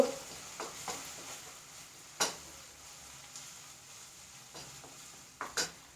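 Green chillies fry in a pan with ginger and garlic for a vegetable kurma, a faint steady sizzle broken by a few sharp clinks and scrapes of a spoon stirring nearby.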